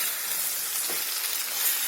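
Curry leaves and turmeric fry in hot oil, giving a steady, close, hissing sizzle with no talk.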